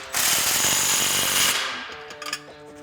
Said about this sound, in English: I'm going to take my 15 millimeter socket on my 3/8 gun again and